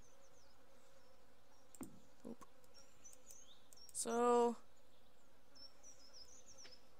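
A short buzzing burst sounds from a bee house in the Stardew Valley video game, rising loudly for about half a second amid sparse game ticks and clicks, with a brief spoken word near the start.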